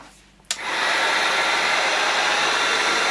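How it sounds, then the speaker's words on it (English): A heat gun clicks on and blows a loud, steady whooshing roar while warming the inside of a candle mould, close by and continuous after the switch-on. "So just with a heat gun, just warming up the inside."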